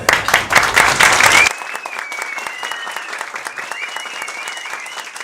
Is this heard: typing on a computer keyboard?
no